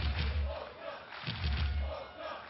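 Crowd cheering at a beach volleyball Grand Slam match in Olsztyn, Poland, a loud roar rising in two surges that fills the background while a commentator talks over it.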